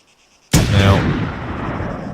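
A sniper rifle in the Arma 3 video game fires a single loud, close shot that cracks sharply and then rolls out into a long booming echo tail.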